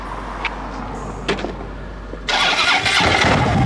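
A motorcycle engine starts partway through with a sudden loud broadband roar, then keeps running close by with a rough, steady rumble.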